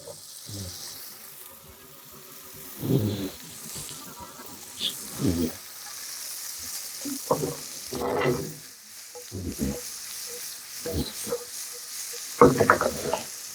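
Bacon sizzling in a pan while making boscaiola pasta with brown mushrooms, with a steady hiss broken by louder bursts of spattering and stirring. Some faint talk sits beneath the crackle.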